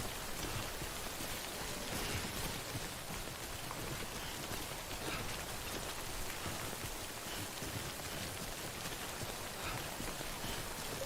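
Rain in the video game Death Stranding, a steady dense patter of drops hitting surfaces, even and unbroken from start to finish, with no one talking over it.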